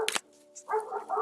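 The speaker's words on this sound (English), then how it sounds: "My dogs are really upset about the possibility of connections with aliens" Dogs barking indoors, a few sharp close barks and yips separated by short pauses, with no talking.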